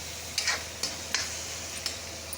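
Masala for a dry tinda vegetable dish being roasted in oil, with a soft, steady sizzle broken by a few sharp stirring clicks against the pan.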